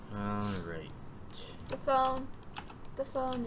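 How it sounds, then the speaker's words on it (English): Rapid clacking keystrokes on a loud computer keyboard at close range, running under a person talking. "I'm sorry my keyboard is so loud."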